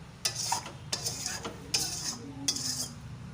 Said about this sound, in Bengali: ভালো করে জলের সাথে মশলাটা মিশিয়ে দেবো।